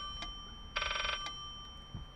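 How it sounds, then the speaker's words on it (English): Ringing in the Layers of Fear horror game: a faint bell-like telephone ring, one sustained burst of rapid ringing with a few short tonal blips before and after over a steady high hum, no talk. "What is that ringing?"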